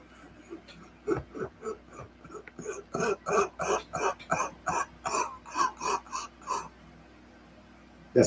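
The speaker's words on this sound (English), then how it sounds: "That's my long cough." A person gives one long coughing fit, a rapid run of a dozen or more harsh, rhythmic hacks that build in strength and then fade. It is close and fairly quiet, with breathy gaps between bursts.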